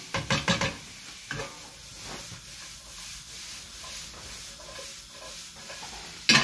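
Marinated chicken curry base stirred in a hot pan, a few sharp scraping strokes at the start, then a steady low sizzle with soft spoon rubs, and another scrape at the very end.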